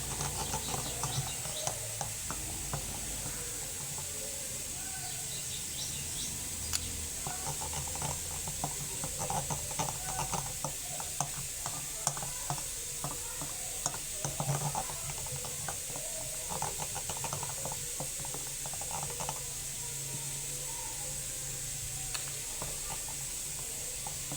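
A spoon stirs flour into a mixture with continuous soft scraping and clicking against the bowl, under a steady background hiss, with no talking.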